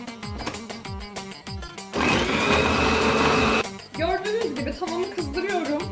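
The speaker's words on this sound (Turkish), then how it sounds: "Robotumdan güzelce çekiyorum soğanlarımı" A kitchen food processor chops halved dry onions in a loud, steady whir lasting about two seconds. Short rhythmic knocks and kitchen clatter come before it, and more clatter with some voice-like tones follows.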